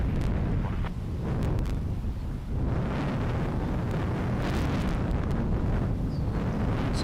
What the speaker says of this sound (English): So that is the SkyWest United coming in from San Francisco